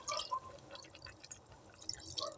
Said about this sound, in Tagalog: Lalagyan lang natin ng konting tubig.